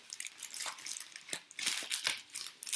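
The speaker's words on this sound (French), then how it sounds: "J'ai la petite paire de ciseaux" Small scissors snipping open a package, giving a series of quiet, crisp cuts and crinkles at an irregular rhythm, close by and alone.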